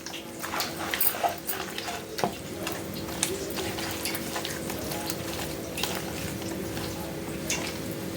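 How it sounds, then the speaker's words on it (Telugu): Fish curry being stirred in a pan: a spoon scrapes and knocks against the metal in irregular strokes over a soft, wet simmer, with no voices. "మంచిగా మిక్స్ చేసుకోవాలి."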